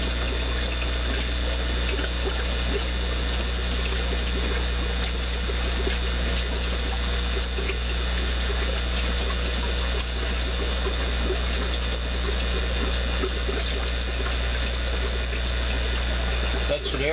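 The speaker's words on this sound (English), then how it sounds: "Okay, plugging the air pump in. Look, already throwing muck up." An aquarium air pump runs in a quarantine fish tank, a constant low hum under steady bubbling and splashing water that continues evenly throughout, ending with a brief clunk.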